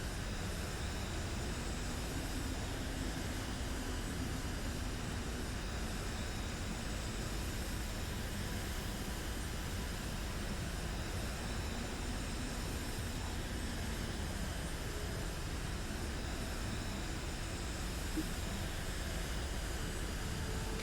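Steady, unbroken propeller-plane engine drone from a flight in Kerbal Space Program 2, a level hum filling the whole stretch with faint pitch shifts as the aircraft loses airspeed, no voices.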